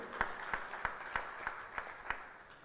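An audience at a university public lecture applauds with steady, rhythmic clapping, a regular pulse of claps repeating about three times a second, somewhat distant and moderately quiet.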